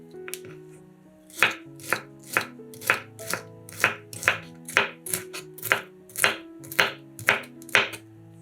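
A knife dices bell pepper into small cubes on a board: after a brief pause, a steady run of about fourteen crisp, evenly spaced chopping strokes sounds up close with no talking.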